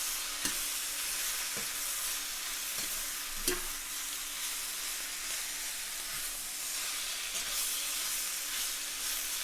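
Shrimp and mushrooms stir-fry in a hot pan, with a continuous close sizzle and hiss broken by periodic scraping and clacking as the food is stirred.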